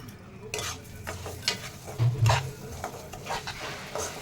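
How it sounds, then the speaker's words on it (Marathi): Coarse wheat dalia roasts in leftover ghee, stirred in a pan with a low sizzle under repeated scraping and clinking of the spoon, close up and with no talking. "आता याच राहिलेल्या शिल्लक तुपामध्ये आपण जो भरडा आहे आपला गव्हाचा तो छान परतून घ्यायचा."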